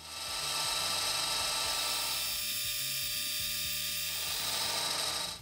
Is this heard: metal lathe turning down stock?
yes